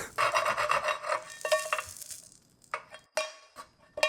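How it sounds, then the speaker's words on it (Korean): A close, coarse rasping and scraping with bursts of crackle as a cowhide leather card wallet sizzles over a gas stove flame, loud at first, then fading into short separate crackles and hisses. "야, 무슨 고기 굽는 소리가 나냐?"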